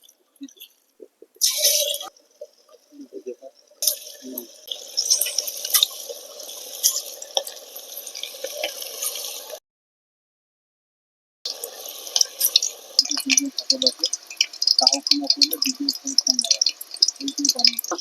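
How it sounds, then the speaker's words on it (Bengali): Chicken pakoda pieces coated in batter deep frying in hot oil, a dense crackling sizzle that runs in long bursts, stops briefly, then returns with sharp spitting pops. "তো এবারে তেল গরম হলে আমরা ছাকা তেলে পকোড়াটা ভেজে নেব।"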